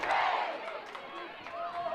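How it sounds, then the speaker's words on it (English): Spectators at Barbara Hibner Field chant during a Nebraska women's soccer match, a massed crowd roar rising and falling in echoing waves, fairly distant and reverberant rather than close. "Go Big Red chants echoing here at Barbara Hibner Field"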